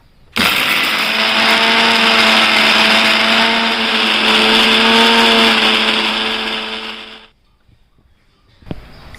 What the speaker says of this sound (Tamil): வதக்கின தூது வேலையை மிக்சியில் போட்டு நைஸாக அரைச்சிக்கணும்